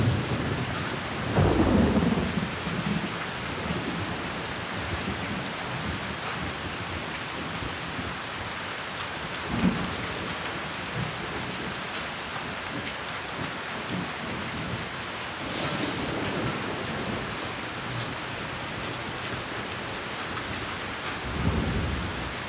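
Heavy rain pours steadily during a mountain thunderstorm, with loud claps and rumbles of thunder breaking through several times over the constant downpour, and no voices.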